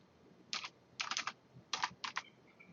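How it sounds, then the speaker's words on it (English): Computer keyboard keys tapped in four quick clusters of strokes, crisp and close, quiet and alone. "You could just type it in the color name box."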